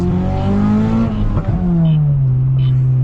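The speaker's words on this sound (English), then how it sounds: "That backfire is obnoxious." An old Honda engine revs loudly close by, its tone falling with a sharp, brief pop of backfire midway through.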